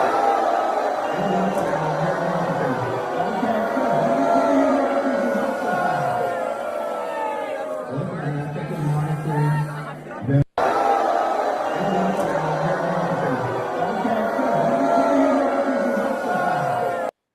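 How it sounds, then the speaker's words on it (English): A large crowd at a political event booing loudly and continuously, with sustained roaring and shouting voices filling the space, briefly cut off near the middle before resuming at full volume. "you can hear the booing"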